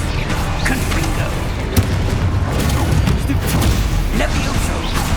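A Confringo spell blast in Hogwarts Legacy erupts in a dense battle soundscape, with sharp booming impacts and crackling bursts over continuous rumbling noise.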